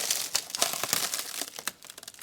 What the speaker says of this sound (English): What a lovely cling film. sound.